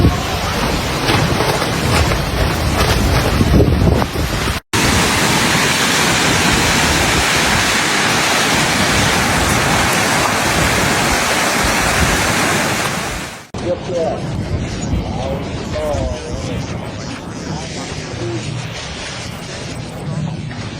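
Heavy rain and strong wind gusts during Typhoon Wipha roar loudly and continuously near a bridge in three abrupt segments, a dense rushing hiss with buffeting wind, alone without talk.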